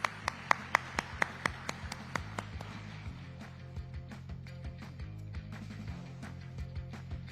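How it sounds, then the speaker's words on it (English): Clapping at a business conclave and awards event, sharp distinct claps in a quick run at the start that thin out into sparse scattered taps, heard over a low steady background hum. "Can we have a huge round of applause for Sir"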